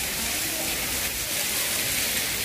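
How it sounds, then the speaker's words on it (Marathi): Light early-morning rain falls steadily in Alandi near Pune, a soft continuous patter and hiss over wet road, even and close throughout with no voices. "पाऊस पडतोय."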